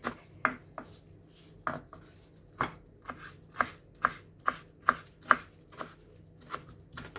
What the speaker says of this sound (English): Now let's slice our tomatoes into small